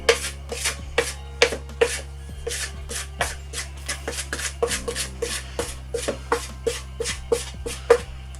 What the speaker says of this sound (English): So stop it part of the way through and get a good scrape down.